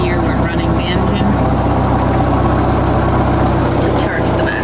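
A sailboat's engine runs steadily while moored during a hurricane, charging the batteries: a loud, constant low rumbling drone with no change in pace, mixed with broadband wind and water noise throughout.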